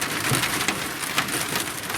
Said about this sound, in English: You can hear it hailing.